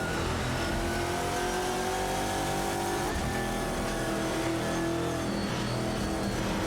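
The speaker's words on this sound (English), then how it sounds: "It's the Maserati MC12 GT1 against the Koenigsegg CCGT." Race cars, a Maserati MC12 GT1 and a Koenigsegg CCGT, roar through a racing video game with a loud, continuous engine whine whose pitch shifts as they accelerate. There is no talking.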